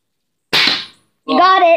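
A gun fires at a green balloon, giving one sharp, loud pop, followed a moment later by a voice speaking.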